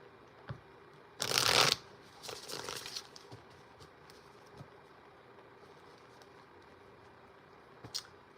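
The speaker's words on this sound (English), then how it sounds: "I don't know why I keep shuffling these cards" A deck of cards shuffled by hand at night, one sharp riffling burst followed by softer flutters, close and clear, with a few light taps and clicks afterward in a quiet room.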